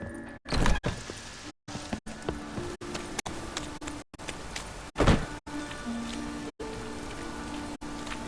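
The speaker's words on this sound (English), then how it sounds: "It just rains and rains." Steady rain falling in The Witcher 3: Wild Hunt, a continuous close patter on surfaces broken by brief dropouts and a few soft thunks, with no voices.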